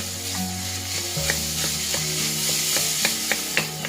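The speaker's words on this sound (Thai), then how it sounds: "ตามด้วยหมูค่ะ พัดหมูให้เข้ากัน" Pork is stir-fried in a pan for a simple spaghetti Bolognese, a constant sizzle broken by a regular run of spatula scrapes and taps against the pan.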